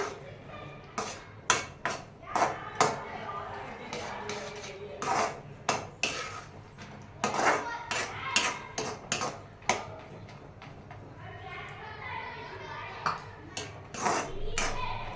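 A spoon stirs peanuts through boiling jaggery syrup in a pan, giving repeated irregular metallic clinks and scrapes against the pan, close and fairly loud, with a voice talking throughout.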